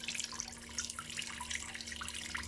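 Water trickles and gurgles as it drains through the siphon pipe of a camper van shower, a steady, soft flowing sound with small bubbling drips throughout.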